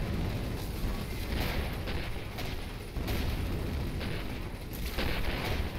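Torpedo hits explode in a naval video game, a dense, continuous roar of booming blasts and rumbling impacts, fairly loud and unbroken throughout.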